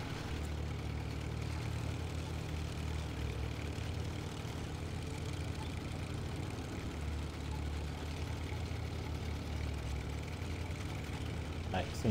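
A truck engine idling in the video game Snowrunner, a steady low droning rumble that holds evenly throughout with no voices over it.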